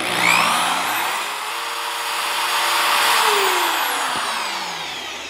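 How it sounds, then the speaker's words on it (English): An electric drill running off an Oupes 2400 portable power station alongside a heat gun on full blast, a steady high motor whine with shifting pitch under a broad whooshing roar, no voices. "Now we'll turn on the drill."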